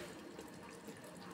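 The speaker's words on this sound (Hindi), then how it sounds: "थोड़ा सा पानी डालेंगे इसमें हम" Water pours into a pot of cooking cow intestine curry, a faint steady splashing wash that runs throughout.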